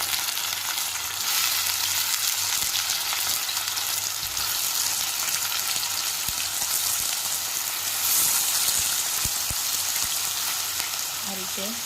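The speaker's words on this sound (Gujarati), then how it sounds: "હવે એને આપણે વેજીટેબલ એડ કરીશું ધીમે ધીમે." Ridge gourd and raw banana vegetables frying in a hot pan give off a steady, dense sizzle that stays strong throughout, with a few faint clicks and no talk.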